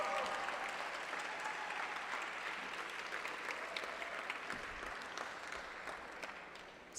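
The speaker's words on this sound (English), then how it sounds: "just a warm round of applause for all the teams and all the stakeholders" Audience applause at a recognition ceremony, a broad, continuous patter of many clapping hands from a room of attendees, steady and fairly distant, slowly fading toward the end.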